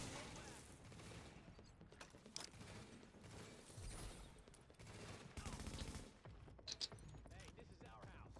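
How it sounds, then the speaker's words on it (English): SMG gunfire in The Division, rapid bursts of automatic shots with mechanical clatter in a busy firefight, repeated rattling volleys throughout, with voices mixed underneath. "This little SMG hurts."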